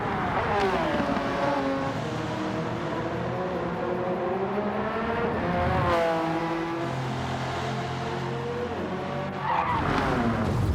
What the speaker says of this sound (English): It looked like he just locked the wheels up and went straight into the barrier.